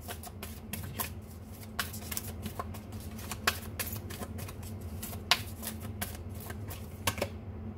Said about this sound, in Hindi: यहाँ से भी जल्दी से कार्ड्स थोड़े से निकाल लेते हैं